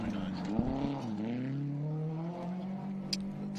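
A rally car passes on a special stage of Rally Hawke's Bay in the New Zealand Rally Championship, its engine tone rising then falling steadily as it goes by, with a commentator talking over it.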